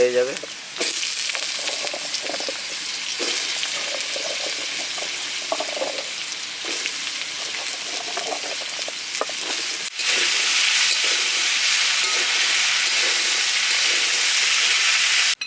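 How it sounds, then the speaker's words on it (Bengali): Chopped potatoes hit onions already frying in a pan and set off a loud, steady sizzle and hiss that jumps louder partway through, with faint background sounds from the kitchen. "এবার দিয়ে দিচ্ছি আলু কুচিটা সঙ্গে আলু কুচিটাও ভেজে"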